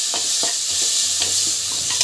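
Ginger garlic paste frying for ghee rice, with a loud, continuous sizzle and repeated scraping stirs against the pan. Nobody speaks.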